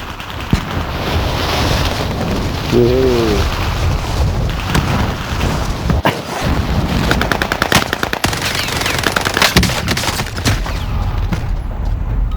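Rapid machine-gun bursts and scattered gunshots fill a Warzone Caldera match, loud and repeated across the clip over a windy, surf-like background rush, with one short in-game voice callout.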